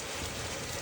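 Rain pours down in a rainstorm, a dense, even hiss of drops striking surfaces that holds steady through a brief moment with no voices.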